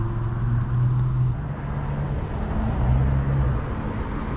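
A continuous low rumble of cars and engines fills a town street at night, holding steady and then swelling slightly as vehicles pass nearby. No one speaks.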